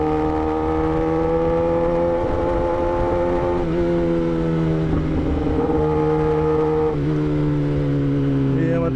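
A big motorcycle's exhaust on a night ride, a loud, steady engine drone with pitch rising and dipping as the rider shifts and eases the throttle, heard up close throughout.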